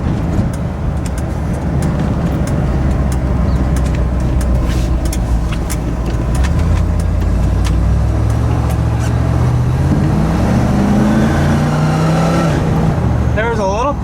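A cold Ford truck engine runs through a newly made tailpipe with a low, burbling exhaust rumble. Its pitch rises toward the end as the engine revs, and a voice briefly joins it.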